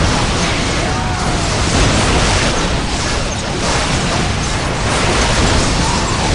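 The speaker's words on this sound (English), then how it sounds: "Let the grenades fly!" Dense, continuous rumbling blasts of grenade explosions in Warhammer 40,000: Dawn of War, loud and overlapping with battle noise throughout.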